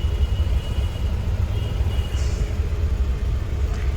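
A car engine idles steadily in a stalled traffic jam, a low continuous rumble with faint road noise around it and no talking.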